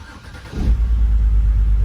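A car engine with cylinder 6 misfiring starts up and settles into a loud, low, uneven rumble close by, running rough.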